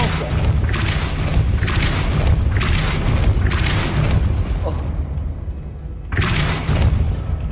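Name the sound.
Depulso spell cast in video game Hogwarts Legacy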